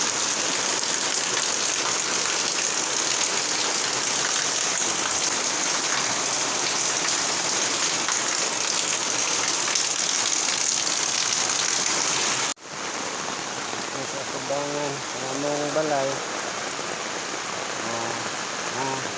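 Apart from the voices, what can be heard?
heavy rain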